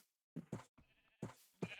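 Sheep bleating in the Minecraft modpack FTB Interactions Remastered, several short close bleats in quick succession, clear and without talk over them.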